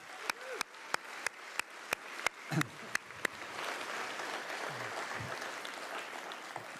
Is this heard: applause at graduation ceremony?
yes